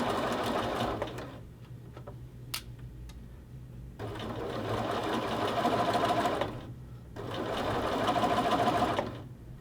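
A sewing machine stitching a French seam at a quarter-inch allowance runs in steady mechanical bursts, a brief pause near two seconds and another near seven, close and clear with no talking.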